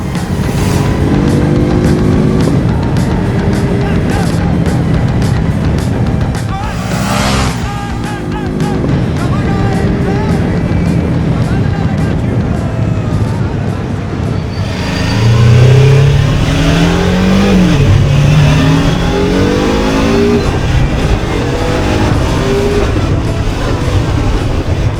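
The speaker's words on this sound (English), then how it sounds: "We are going to test ride the BMW F450 GS." A BMW F 450 GS motorcycle engine on a test ride, heard up close and loud against wind rush, with its revs rising and falling through gear changes.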